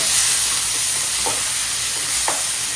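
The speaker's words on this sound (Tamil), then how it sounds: "இதில் நம்ம தக்காளி சேர்த்துக்கலாம். 2 தக்காளி சேர்த்துட்டேன்." Tomatoes frying with golden-brown onions in a pan while duck fry is being cooked, a dense continuous sizzle close up with a couple of brief scraping stirs of a spatula.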